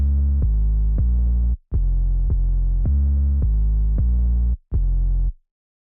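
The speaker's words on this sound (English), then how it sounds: "808 pattern going on" Deep, sustained 808 bass notes play alone in a bouncing pattern, several long tones gliding slightly and cutting off sharply, loud and close.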